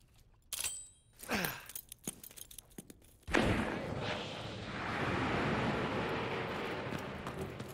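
Gunfire in the video game Call of Duty WWII, a few sharp cracking shots followed by a loud burst and a lingering rumble of battle noise.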